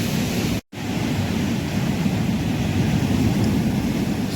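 Rough sea at Digha beach at high tide, heard as a continuous loud wash of surf noise, broken only by a brief dropout near the start.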